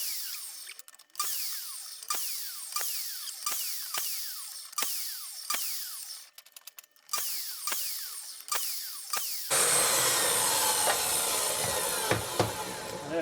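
Wooden boards being sawn for a birdhouse, a run of sharp rhythmic strokes with short pauses, close and fairly loud, giving way to a denser continuous rasp near the end.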